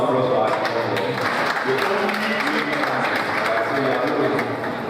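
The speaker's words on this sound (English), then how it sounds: "Please a round of applause for us." Applause from an audience at a teachers' award ceremony and conference, a steady dense round of clapping lasting several seconds, fairly loud and close, with faint voices underneath.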